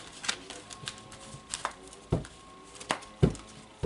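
Tarot cards being shuffled and pulled from two decks, heard as a close run of soft riffles and sharp card snaps and slaps at an uneven rhythm, with no talking.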